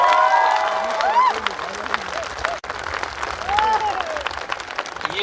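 An audience at a Mi Lifestyle marketing seminar breaks into sustained, dense clapping with cheering, while someone speaks over the crowd partway through.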